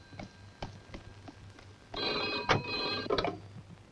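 An old telephone bell rings in a quiet room, brief rings at first and then a louder, longer burst of jangling rings, heard alone without talk.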